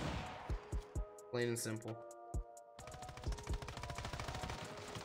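Sharp single shots from the mobile shooter Standoff 2 crack out at spaced intervals, followed by a quick run of rapid fire, with someone talking over parts of it.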